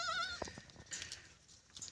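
A red goat on a farm gives a wavering, nasal bleat at the start, followed by fainter livestock noises and rustling in the background, at modest volume.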